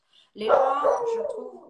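A dog indoors giving a drawn-out, whining howl-like bark that rises quickly and trails off, close and fairly loud, with someone speaking French over it.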